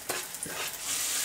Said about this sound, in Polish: Dołożę tylko masła, żeby kurczak miał się gdzie smażyć.